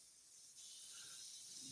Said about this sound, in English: drop a little bit of thinner into the brush just to make sure it's